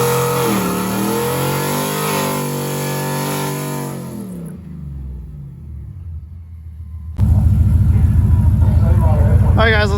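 A fast Ford truck on a drag strip revs with rising, sweeping engine tones and then fades to a quieter lull. It then bursts into a loud, harsh, full-throttle roar as it launches.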